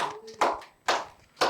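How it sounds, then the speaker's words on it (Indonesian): Three separate, evenly spaced hand claps ring out in a talk-show studio, close and crisp, with quiet between them rather than a full round of applause. "Tepuk tangan dulu boleh."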